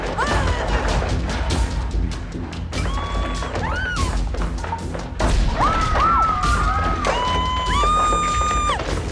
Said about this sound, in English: We put some sound effects of the door crashing open